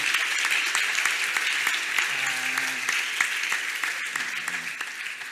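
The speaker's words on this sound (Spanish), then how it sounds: "Denle un fuerte aplauso a Dios" Loud applause from a church congregation saluting God at a worship service, steady dense clapping throughout with a brief sung or spoken tone in the middle.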